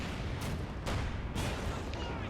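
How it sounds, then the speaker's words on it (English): Mortar rounds and 75 mm cannon fire from a StuG assault gun in the WWII strategy game Company of Heroes 2, heard as a dense, loud battle din with several sharp blasts over constant rumble, a commentator talking throughout. "Mortar there coming in the fire from the Stugi, and it's 75 mm with a cannon."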